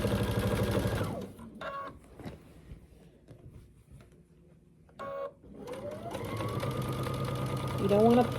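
A sewing machine stitches quilt binding down in two short bursts amid quieter pauses, with stronger machine whirring at the start and end and a voice speaking over parts of it.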